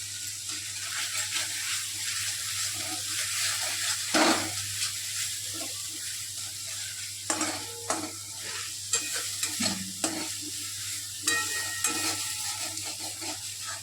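Turmeric and cumin powder sizzling in a pan while being stirred, a steady close frying hiss with intermittent scrapes and clicks of the spatula against the pan.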